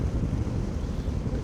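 Wind rushing over the microphone during a ride on a Royal Enfield Himalayan 450 motorcycle, a loud, steady low roar that buffets throughout with no speech.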